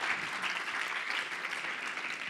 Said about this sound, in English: If we can give all a warm round of applause to our speakers.